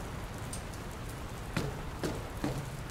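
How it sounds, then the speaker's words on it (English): Steady rain falls in the video game Dr. Langeskov, a constant hiss with a few louder drip-like taps, heard alone and at moderate level. "I don't think it's supposed to still be raining"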